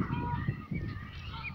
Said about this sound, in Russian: И вот эти все гуси разноцветные.